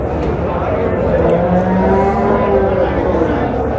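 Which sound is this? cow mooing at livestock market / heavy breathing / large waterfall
cow mooing at livestock market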